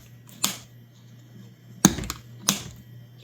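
A 3D-printed plastic part snapping into place: three short, sharp clicks, close by, spaced apart against a quiet background with a faint steady hum.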